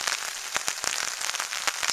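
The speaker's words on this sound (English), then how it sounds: "It's raining again." Rain patters steadily on a hammock shelter tarp, a close, dense hiss broken by frequent sharper drops striking the fabric, with no voices.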